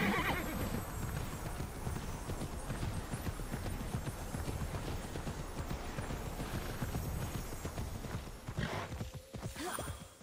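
Horse hooves clip-clop at a steady walking rhythm in the video game Immortals Fenyx Rising, close and continuous, with a neigh near the end and no voices over it.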